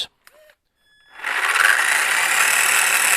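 Traxxas Summit RC truck with its wheels spinning in second gear, a steady mechanical whir with rattling that rises after a quiet start and then holds loud and continuous, close by.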